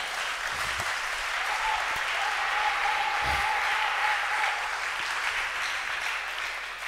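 A church congregation applauding and acclaiming, dense sustained clapping filling the room for several seconds with a voice or cheer ringing out in the middle.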